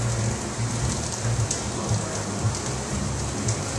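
Butter, about two tablespoons, sizzling in a fry pan over roughly three-quarter heat, a steady dense crackle and hiss running throughout with no talk.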